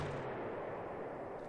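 Strafing-run gunfire in the WWII strategy game Panzer Corps, set in the 1941 campaign: a dense, continuous roar of rapid fire and rumbling blasts that stays loud and unbroken throughout.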